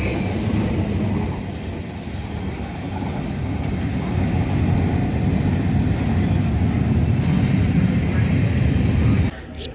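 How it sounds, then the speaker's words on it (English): Train standing at Amersham Station platform, a steady loud rumble with wheel squeal and high whine throughout, ending abruptly near the close; the low hum of the engine fills the platform. "Everyone was rushing to get a photo of the train from either end"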